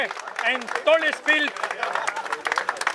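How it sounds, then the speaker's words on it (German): An audience applauds at an award presentation for a painting at a racing event, a steady wash of clapping heard beneath someone talking loudly over it. "Applaus für dieses wunderbare Prozedere"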